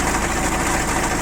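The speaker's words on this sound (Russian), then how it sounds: "Трактор отлично работает, выхлопа никакого лишнего нет." A Mitsubishi MT155 four-wheel-drive diesel mini tractor fitted with a rotary tiller idles up close, a loud, steady, rough clatter with constant vibration and no voices.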